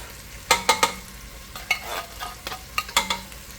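Tuna mixed with condensed soup and Worcestershire sauce being stirred in a pan, with repeated close scraping strokes and wet sizzling clicks in uneven bursts.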